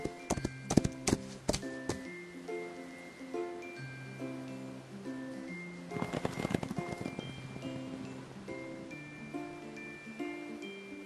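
Horse hooves clip-clop in Love and Deepspace during a grassland ride, a steady close rhythm of hoofbeats with a louder cluster of steps early on, all beneath gentle melodic game music.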